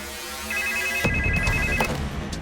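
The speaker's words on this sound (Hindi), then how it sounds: "फिर से फोन लगाओ और स्पीकर पे रखो।" A phone rings through a speaker, a repeating electronic tone that stops abruptly as a loud click and room noise take over.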